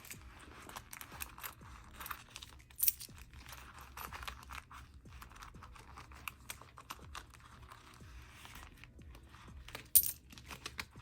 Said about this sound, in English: Oh, I have some coins. So I guess I can get rid of some of these coins.